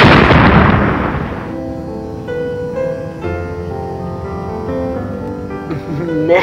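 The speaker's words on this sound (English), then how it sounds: "The place is set to blow." A loud explosion in a machinima short film, starting with a heavy broadband blast that fades over about a second and a half into a sustained tonal musical score.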